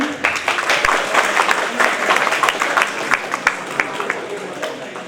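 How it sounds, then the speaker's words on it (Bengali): An audience at a ceremony in Monfalcone, Italy, claps together, a fairly close and lively patter of many hands with uneven peaks, while a voice talks over it. "সবাই একটু হাততালি দিবেন"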